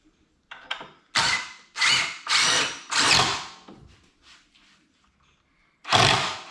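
Power drill boring a hole while assembling a shelving unit, loud close bursts of motor whine repeating four times in quick succession, then a pause with quiet handling noises and one final burst.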